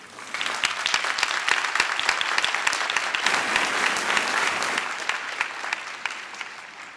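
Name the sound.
applause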